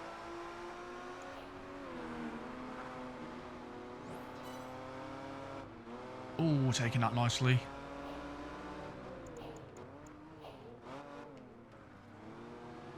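Racing car engines in Project Gotham Racing 4 drone and rev steadily, with a brief louder snarl of a passing car partway through. Someone talks over the engine noise.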